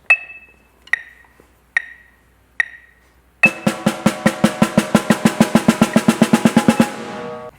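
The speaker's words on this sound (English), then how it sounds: "you can see how those roll bases would play out in the middle of a 1-measure crescendo" Snare drum buzz roll bases: four single buzz strokes spaced apart, then a dense run of evenly repeating buzzed strokes building louder through one measure, close and alone.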